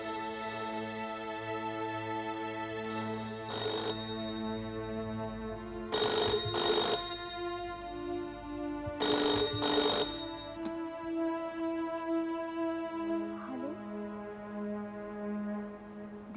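A telephone rings repeatedly in short electronic bursts over a steady droning tone, each ring a clustered trill spaced a few seconds apart.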